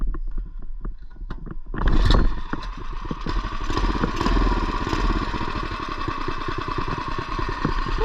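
A small mini bike engine revs up sharply and then runs at a rough, rapid putter, loud and close, with an uneven sputtering rhythm.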